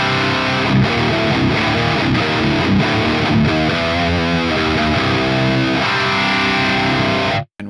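A heavily distorted electric guitar through the Archetype: Misha Mansoor X amp plugin with its compressor off plays chugging chords and riffs, loud and sustained, then cuts off abruptly at the end.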